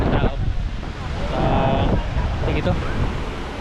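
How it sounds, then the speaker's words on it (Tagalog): Sea waves wash onto a busy beach in steady broadband surf, with wind noise buffeting the microphone and a brief tonal sound partway through. "Ito, yung alon naman is medyo palakas."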